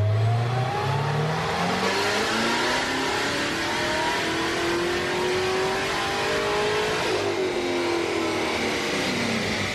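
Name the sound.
Corvette C7 Z06 engine revving during base run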